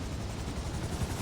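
Sparrow helicopter in GTA 5 Online, a steady broadband rotor and engine wash with low thumping, continuous and fairly loud, no voices.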